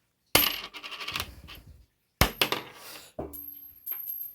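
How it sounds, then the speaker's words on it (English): A 1982 copper penny hits a cement floor twice, each drop giving a sharp strike and a run of quick bounces with a clear, sustained metallic ring that fades away, close and alone in silence. "if you drop it on cement, it makes a very distinctive noise"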